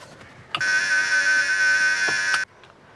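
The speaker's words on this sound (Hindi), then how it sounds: "अब यहाँ घर की घंटी बज रही, कोई खोल नहीं रहा है।" A house doorbell rings in one sustained electronic buzz-tone lasting about two seconds, loud and steady, starting and stopping abruptly.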